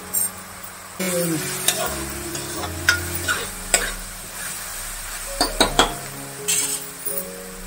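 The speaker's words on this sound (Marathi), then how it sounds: "हे चांगलं परतून झाल्यानंतर आपल्याला मसाले घालायचे।" Tomato and ginger-garlic paste being sautéed in a pan for matar palak paneer, with a steady sizzle and repeated clinks and scrapes of a spoon stirring against the metal.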